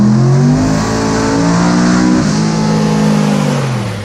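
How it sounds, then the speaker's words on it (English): A 1955 Chevy engine revs hard on a dyno, loud and close, sweeping up and holding high in a steady roar that dips briefly and climbs again with no speech. "We put it on the dyno today."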